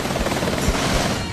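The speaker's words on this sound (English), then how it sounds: "The most notable addition to the game is the assortment of helicopters." Helicopter rotor from Battlefield Vietnam, the war video game, a steady broadband whir with low thumping beats, loud and continuous throughout.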